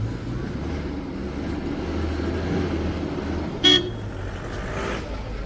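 Vehicles drive along a road in Kullu toward a paragliding site, with a low engine rumble throughout and one short horn toot partway through.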